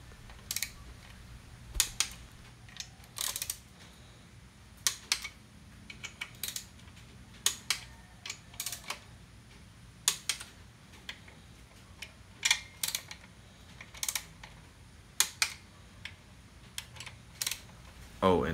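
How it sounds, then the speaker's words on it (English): A torque wrench tightens engine bearing cap bolts to 22 foot-pounds, giving a series of sharp, quiet clicks and ratcheting ticks in irregular bursts close by in a quiet workshop. "now we're gonna torque it to 22 feet pounds for the first step"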